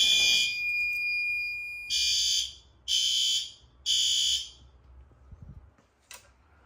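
Fire alarm during a November system test: a continuous high electronic tone, then three loud evenly spaced blasts of about a second each, with quiet room noise and a faint short chirp at the end.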